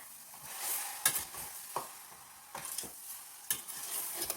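Masala paste is stirred and fried in oil for Kottayam-style kappa biriyani, with a close, crisp sizzle broken by several sharp scrapes and clinks of a spoon against the pan.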